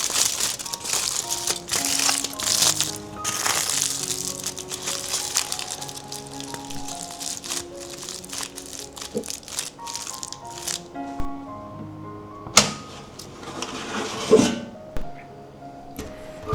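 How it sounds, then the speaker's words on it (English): Aluminum foil crinkling and crushing as it is wrapped tightly around eggplants, bursts of close crackly rustling with a few sharper pops toward the end. "now wrap each eggplant tightly in the foil. Seal it up completely."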